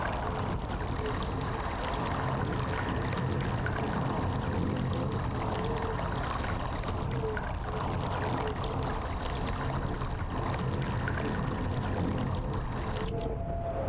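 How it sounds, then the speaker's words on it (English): Flowing water in the Myst game world, a steady, even rushing wash that holds constant throughout with no breaks, with a faint voice beneath it. "because that's the sound of water."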